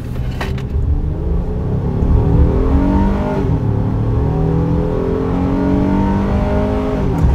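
A Honda Ridgeline pickup accelerating hard from a stop, its engine rising steadily in pitch through the gears with one shift partway, a loud continuous interior drone heard alone without talk.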